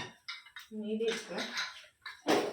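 Dishes and pots clatter and clink in a sink under running water, with a voice speaking nearby and a brief burst of scrubbing noise.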